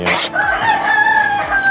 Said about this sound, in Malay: Bunyi ayam saya kata, jangan heran sekejap. Saya dekat reban ayam ni, tepi rumah ni.